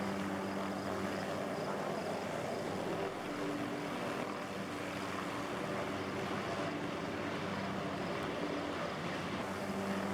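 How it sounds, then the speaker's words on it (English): A helicopter in the video game DayZ labours as it climbs a mountain, its steady rotor and engine drone filling the whole stretch at an even, moderate level with no talk over it. "This heli has like a hard time going up when you're flying."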